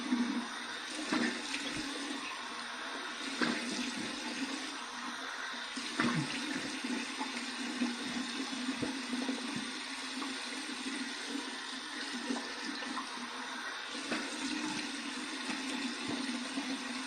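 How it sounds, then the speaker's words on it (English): Cold water runs from a tap and splashes during a rinse after a safety-razor shave, a continuous gushing hiss with intermittent splashing, fairly quiet and close, with no speech. "Here's my cold water rinse."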